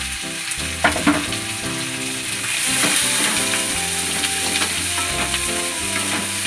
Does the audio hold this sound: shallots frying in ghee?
yes